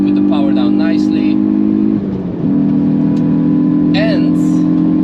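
A tuned Hyundai i20 N on the Nürburgring drones steadily under acceleration, the engine note dipping briefly at a gear change before pulling on, with someone talking over it.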